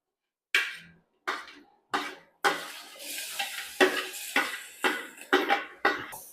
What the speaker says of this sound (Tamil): இப்போ வந்து இவனை கொட்டிடணும், வெங்காயத்தை.